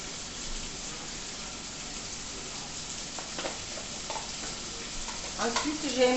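Veal sausages browning gently over low heat in a pan give a steady, soft frying sizzle throughout, with a few clinks and stirring sounds growing louder near the end.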